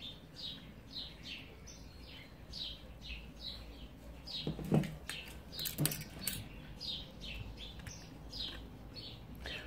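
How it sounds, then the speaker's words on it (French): Small birds chirp in a repeating pattern after leaving their cage, quiet and steady throughout, with a couple of brief louder knocks or rustles near the middle and no talk. "Oh, les petits oiseaux ils sortent de la cage, voilà."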